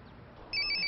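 A telephone ringing in a house in a Punjabi comedy film scene, a short trilling ring bursting in loudly after a quiet moment and repeating in quick pulses, with no talking.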